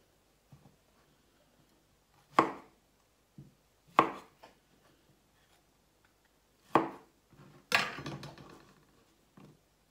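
A knife slices mushrooms thinly on a board, giving sparse, quiet, sharp cuts with a few soft taps between them, close up, and no one speaking.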